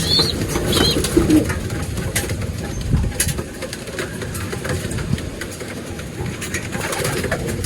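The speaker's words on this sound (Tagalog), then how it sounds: "Gutom pa, bigyan pa natin mga kalapatids." Pigeons in a breeder's loft coo in a steady low murmur, with a faint engine idling in the background and no voices present.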